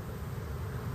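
Honey bees drone in an opened hive in a brief, steady, close buzz with no talking.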